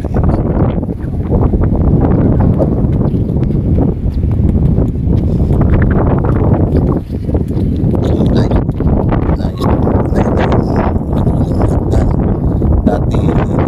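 Wind blows hard across the microphone on a hilltop at Tinawagan Hills, making a loud, continuous rumbling buffet that barely lets up.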